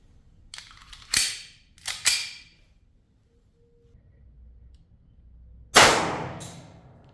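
A blank gun loaded with 4.5mm steel BBs fires; three sharp, loud cracks come close together early on, then after a pause one louder bang with a ringing tail.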